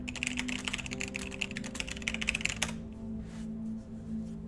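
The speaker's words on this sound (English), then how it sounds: "Let me actually type that out." Fast, steady clatter of keys on a computer keyboard, close and fairly quiet, lasting a couple of seconds before stopping abruptly, with a low hum underneath and no talk.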